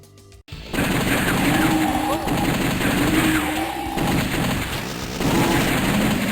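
Gunfire in a Sega Saturn horror arcade rail shooter, dense and continuous rapid shots and booms over a game soundtrack, with a voice briefly audible.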